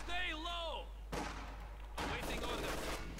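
A rifle grenade and gunfire in the Company of Heroes 2 battle game, with several loud bursts of crackling explosive noise following a stretch of tonal voice-like sound, all over a steady low rumble.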